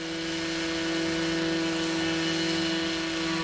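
Steady, continuous rotor and engine drone of a small robotic model helicopter with a laser scanner hovering nearby, a constant whine with no voices.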